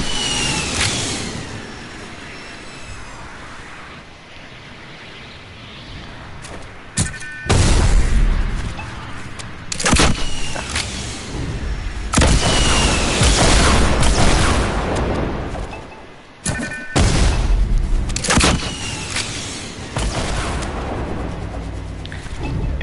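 In the Fortnite video game, a rocket boost launches the player upward with a series of loud booms, blasts and roaring engine-like rushes. The bursts come in several waves over a steady, busy game soundscape.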